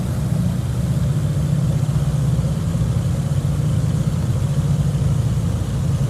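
A Beechcraft Baron B58 twin piston engine in Flight Simulator X dropping to 1700 RPM, a steady, loud low drone with an even hum and no clear change in pitch, with no talking.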